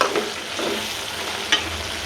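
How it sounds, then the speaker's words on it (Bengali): Spice paste being sautéed with flat beans and a bunch of bori in a pan, a close, continuous sizzle with scraping stirs and one sharper clatter near the end. "এইভাবে সুন্দর করে কষা এগুলো তরকারি দেওয়া"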